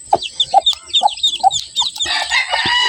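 Newly hatched chicks peep in sharp, high repeated chirps close by, joined by low clucks from hens in the farmyard and a thicker burst of overlapping cheeping near the end.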